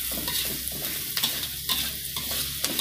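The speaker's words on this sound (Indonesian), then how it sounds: "Kemudian bawang putih kita aduk-aduk supaya masaknya merata." Garlic frying in a pan for sardines with petai and chilli is stirred, with a loud close sizzle and repeated scraping strokes of a utensil against the pan.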